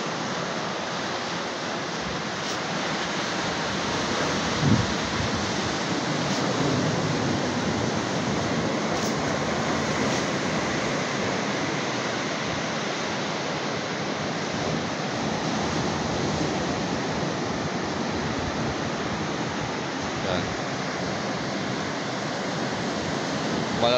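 Large ocean waves break continuously on the shore beside a seawall, making a steady, loud roar of surf that fills the whole stretch with little change.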